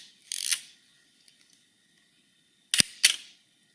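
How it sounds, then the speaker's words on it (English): A mechanical camera shutter set to a quarter second snaps open, then a string of tiny ticks, and two quick, close clacks later; crisp, nearby, no voices. "See how it's getting faster every time."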